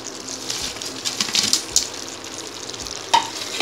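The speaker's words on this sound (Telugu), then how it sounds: "దీంట్లో నేను ఇప్పుడు పన్నీర్ వేసేస్తున్నాను." Paneer cubes go into a partially cooked chilli paneer gravy in a pan and get stirred, giving a steady close sizzle with scraping spoon strokes and a few sharp clinks.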